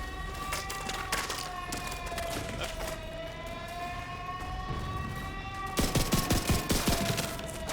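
Automated autocannon fire in the video game The Division 2: sustained rapid bursts under wavering siren-like alarm tones, turning into louder, sharper shots near the end.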